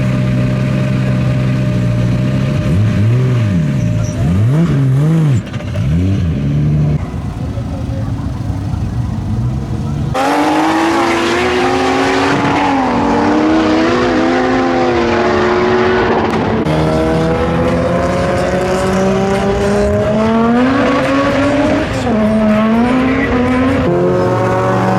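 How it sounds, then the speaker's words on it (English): Race cars at a track day start line, engines revving and idling close by, rising and falling pitches as cars pull away and pass, with someone talking over the steady motor noise. "Chill here on the start line and kind of see what type of cars are driving by, and watch and spectate some races."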